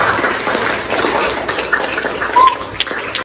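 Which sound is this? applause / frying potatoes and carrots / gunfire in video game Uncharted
applause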